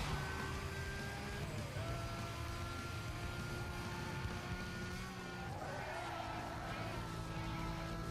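Race car engine in Need for Speed Most Wanted during a long circuit race, a steady loud droning roar with shifting pitch throughout, with some speech underneath.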